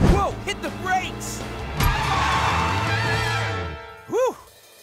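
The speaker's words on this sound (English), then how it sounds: "Whoa, hit the brakes!" Cartoon monster truck braking hard, a loud screech with revving and skidding under excited cartoon voices, then a short whooshing squeal near the end.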